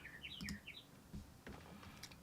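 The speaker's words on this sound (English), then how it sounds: "the bird's starting to chirp" Faint birds chirp with a few quick, high tweets early on and another short burst near the end, heard at a distance over a low, quiet room background.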